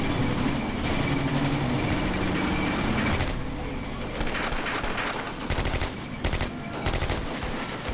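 Machine-gun bursts and rifle fire in the WWII tactics game Combat Mission: Beyond Overlord, rapid repeated volleys over a constant rumbling battlefield din, with a voice talking over the action.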